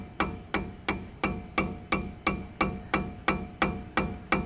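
Repeated hammer blows knock the dust cap off a brake rotor hub on an F-Body car during a Brembo brake swap, about a dozen sharp metallic strikes in steady rhythm, close and loud with no talk.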